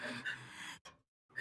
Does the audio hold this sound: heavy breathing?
yes